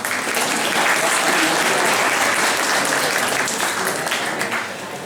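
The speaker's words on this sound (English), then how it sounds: "round of applause for yourselves." Dense, loud applause from a crowd at the Cadger Gathering event, steady clapping that fills the whole stretch without pause and tapers slightly at the end.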